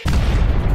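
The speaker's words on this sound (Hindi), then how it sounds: "तो बच्चा पटाखा उठा के" A cartoon firecracker goes off as a single loud, close boom that fills the short moment with a rumbling burst and no voices.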